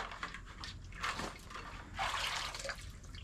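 A motorcycle part from a Duke 650 dipped into a bucket of vinegar, giving soft splashes and drips of liquid in a few brief bursts, close by with no talk.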